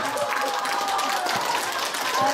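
An audience of women at a singing class in Bucheon claps lightly and unevenly at a moderate distance, partly under a speaking voice and room noise.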